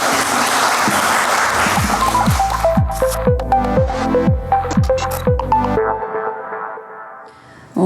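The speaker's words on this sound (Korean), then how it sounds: "큰 박수로 한번 맞아보도록 하겠습니다." Audience applause at a literary talk event greets a visiting author with a loud burst of clapping at the start. It thins out as bright, rising tonal chimes take over the rest of the moment.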